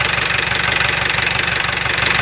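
An Isuzu pickup truck engine idles close by, a constant rumble with a rapid, even knocking pulse and no voices.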